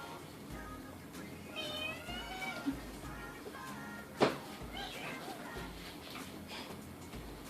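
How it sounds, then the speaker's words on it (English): A cat meows a few times with drawn-out, wavering cries over quiet room noise, including one sharper, louder yowl midway; faint talk in the background. "He's over there meowing"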